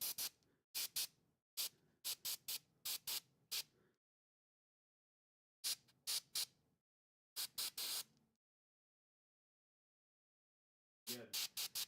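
An airbrush sprays transparent paint in a series of short hissing bursts, grouped in quick clusters with silent pauses between them, close and clear.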